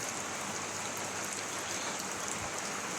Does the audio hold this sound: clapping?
no